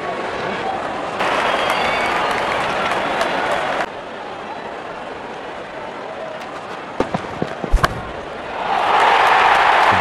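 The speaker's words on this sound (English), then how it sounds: "Openers walking in and the crowd cheering in anticipation." Stadium crowd in the cricket video game Real Cricket 24 cheering as the openers walk out; a broad, steady roar that swells and dips, with a few sharp bangs near the end and a louder burst closing out.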